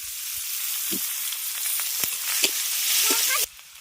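Chopped onion dropped into hot oil already tempered with panch phoron and dried red chilies, a loud close sizzle with a few clinks, cutting off abruptly near the end.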